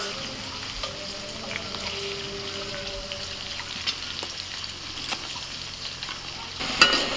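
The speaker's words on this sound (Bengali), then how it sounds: "আলুটাকে আমি মিনিট 5 মতো ভেজে নিয়েছি।" Potato pieces fry in hot oil for a restaurant-style chicken biryani, a soft, steady sizzle with occasional stirring clicks and scrapes, quiet and close by.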